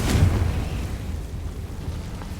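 A Confringo fire spell blasts off in Hogwarts Legacy: one sharp, loud burst up front that settles into a rumbling tail.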